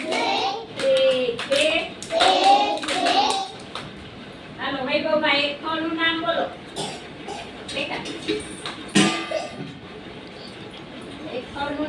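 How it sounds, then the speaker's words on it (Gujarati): Several preschool children at an anganwadi clap their hands in quick bursts while a teacher's voice and young voices talk and chant fruit names over the claps, close and fairly loud. "ચાલો હું તાળી પાડું બધાય મારી સાથે તાળી પાડવાની"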